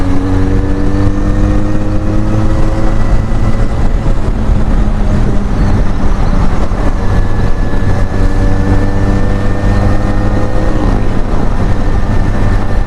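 Benelli Leoncino 500 motorcycle with an aftermarket exhaust rides at steady speed, a loud, continuous engine drone with gently rising and falling pitch as the throttle shifts, heavy wind rush throughout and no voices.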